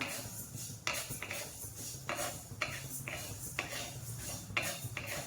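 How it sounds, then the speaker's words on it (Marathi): Cumin and coriander seeds dry-roasting in a pan as chakli bhajani is prepared, with a steady faint rattle and light scraping from repeated stirring, small clinks of a spoon against the metal recurring every second or so. "आता जिऱ्याला फक्त हलकं गरम करून घ्यायचंय, खूप काही गरम करायचं नाहीये जिऱ्याला"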